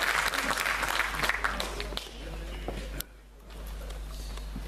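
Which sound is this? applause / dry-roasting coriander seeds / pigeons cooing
applause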